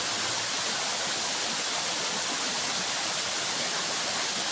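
A waterfall at the head of a reservoir in the Huai Huat hills roars with a steady, dense, hissing rush. It is loud and constant throughout, with no voices over it.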